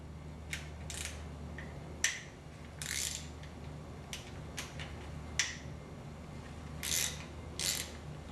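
A hand ratchet loosens 10mm bolts on the timing chain tensioner of a Nissan 240SX KA24DE engine, with bursts of close, quick clicking and occasional sharp clacks of the tool over a low hum.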